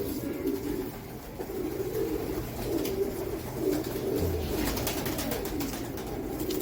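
Teddy pigeons coo steadily throughout, a soft continuous murmur of overlapping coos with faint rustling in the background.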